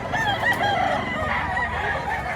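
A Hennie gamecock rooster crows in one long, loud, close call that fills the whole moment, with light farmyard background noise and no talking.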